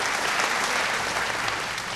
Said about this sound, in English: One big round of applause, please, for all our production partners.